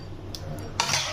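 Chicken pieces being sautéed in a kadai, with metal utensil scrapes and clinks against the pan and a brief louder scrape near the end, close and moderately quiet.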